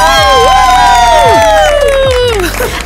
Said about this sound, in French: Applaudissons nos candidates.